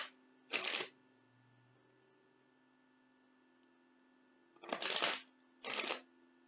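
Tarot cards are shuffled in three short, crisp riffling bursts, one early and two close together near the end, heard close in an otherwise quiet room.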